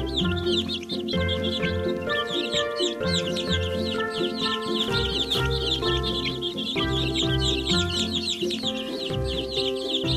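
Hungry baby birds chirp and cluck in a kids' counting game, a steady chorus of bright cheeps over a looping musical backing.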